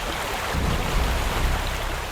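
A waterfall heard as a steady, dense rush of falling water, broadband and unbroken, fairly close and with no voices over it.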